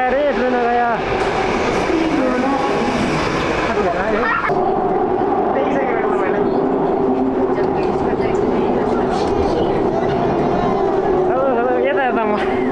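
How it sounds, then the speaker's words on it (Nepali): A Seoul subway train pulls into the station with a rising rumble, squealing brakes and rail clatter, loud and close, while excited voices talk over the arrival. "ए ट्रेन आगायो रे ट्रेन आगायो"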